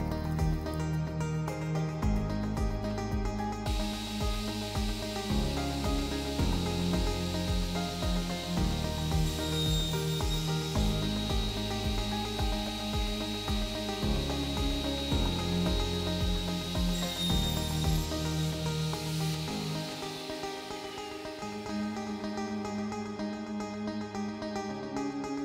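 A Felder K3 e-classic circular saw cutting a bevel in wood at 19 degrees, a steady loud motor whine with a continuous grinding hiss of the blade through the workpiece, running throughout.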